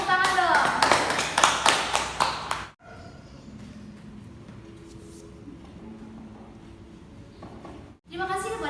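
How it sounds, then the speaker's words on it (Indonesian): Students clapping in a classroom, a short burst of sharp hand claps with children's voices mixed in, then a quiet stretch of faint room noise before talking resumes. "Silahkan maju ke depan, beri tepuk tangan dong."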